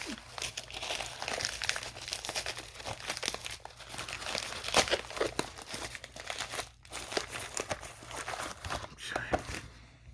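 Crinkly plastic game packaging for a Nintendo DS copy of Crash of the Titans being handled up close, with continuous crackling and rustling that swells and eases in uneven bursts, soft and intimate, with no talking.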